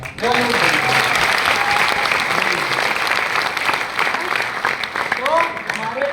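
Audience at a business meeting in Ludhiana claps loudly and steadily for about six seconds, a dense close wash of hands with scattered voices and a speaker's voice breaking through over it.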